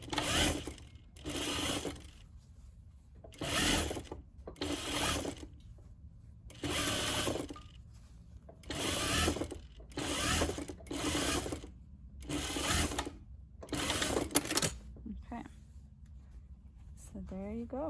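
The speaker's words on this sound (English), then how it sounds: "You can give it a nice straight stitch." A sewing machine stitches a dress sleeve in repeated short runs of steady whirring, pausing briefly between bursts, close and fairly loud.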